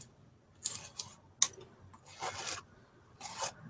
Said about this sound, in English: And I'm just going to scrape it down.